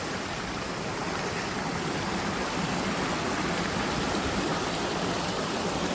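Stream water flows over rocks at a trail crossing, a steady, loud, broadband rush of running water that continues unbroken, with no talking.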